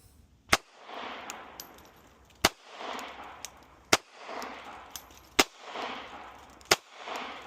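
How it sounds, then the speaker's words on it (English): Five sharp pistol shots from a Smith & Wesson Bodyguard firing 85 gr Federal Punch .380 ACP rounds at a 5-yard target, spaced irregularly with echoing decay after each loud crack. "We're at 5 yards. Let's shoot."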